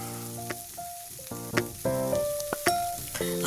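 Sprouted green gram and chopped carrot hit a hot pan for a stir-fried thoran, giving sizzling bursts with scraping stirs and clinks of a utensil, close and without talk.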